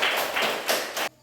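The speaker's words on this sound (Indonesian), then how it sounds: "mari kita tepuk tangan" Schoolchildren clapping their hands together in a classroom, a dense burst of applause in several loud swells lasting about a second before cutting off abruptly.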